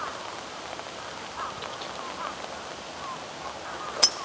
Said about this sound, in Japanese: ほら、 雨なの。